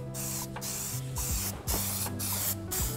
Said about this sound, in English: And then we can start spraying our plasti dip.